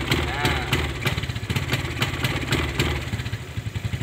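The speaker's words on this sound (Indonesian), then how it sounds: "Ya, saya hidupkan mesin." A Suzuki motorcycle engine (Smash, Satria or Shogun class) with a fault runs with a rapid, uneven clattering beat and repeated throttle blips, close to the microphone and fairly loud throughout.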